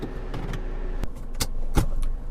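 Inside a front-wheel-drive Nissan Kicks as it gets ready to set off: a few close clicks, a jangle of keys and short whirring bursts over a low steady hum, with no talking.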